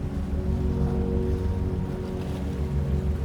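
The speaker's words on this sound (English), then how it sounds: "Water brushes gently along the side of the ferry, a low, even sound, consistent, calm." Water lapping gently along the hull of a ferry at a dock, a low, steady, even wash that runs without a break and with no voices.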